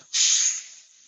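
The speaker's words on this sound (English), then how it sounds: "You want to hear that sizzling sound." A short burst of bright sizzling as food hits hot oil, loud at first and then fading into a softer hiss.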